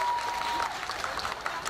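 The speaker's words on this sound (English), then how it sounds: "A big round of applause, please," An outdoor crowd at a Lunar New Year fair in Perth applauds, a steady spread of clapping that carries throughout, with a faint tone and some voices mixed under it.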